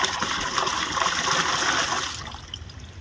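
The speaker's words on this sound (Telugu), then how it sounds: "ఇక్కడ కొంచెం బియ్యం కడిగిన నీళ్ళు ఉన్నాయండి, ఇలా పోసుకుందాం." Rice-washing water pours steadily into a pot for plants in a terrace garden, a continuous close splashing gush that tapers off near the end.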